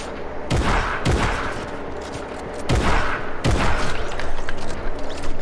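Drum gun submachine gun fire in a video game: dense bursts of rapid automatic shots with a couple of sharp heavy blasts, loud and continuous throughout, no talk.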